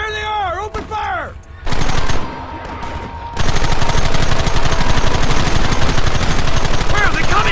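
Gunfire in the western game Red Dead Redemption: after a shouted voice, a loud, dense fusillade of rapid rifle and machine-gun shots erupts and keeps going, with a voice briefly heard again near the end.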